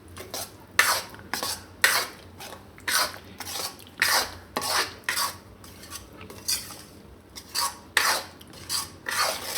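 Urad flour being roasted and stirred in a pan for adadiya, a metal spoon scraping in a steady rhythm of sharp, close rasping strokes, roughly one per second, with no talking.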